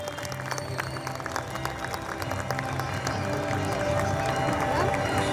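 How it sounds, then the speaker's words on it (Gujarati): Sustained applause from a crowd at a community honor ceremony for the Sompura samaj, dense rapid clapping filling the room at a steady level, with voices faintly underneath. "આપણે એમને જોરદાર તાળીઓથી વધાવી લઈએ"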